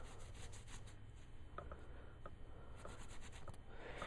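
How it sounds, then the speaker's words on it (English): Soft, steady rubbing of a rag dipped in liquid over a sanded knife blade, with a few faint light knocks, continuous and close. "I have this old rag and I just dipped it in it. I'm just going to wipe it down"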